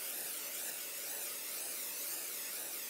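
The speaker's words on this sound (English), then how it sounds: "I'm going to spray my Pixie Spray over it" Pixie Spray misted from a spray bottle during a craft session, a steady broad hiss held for the full three seconds, close and even with no pauses and no talking.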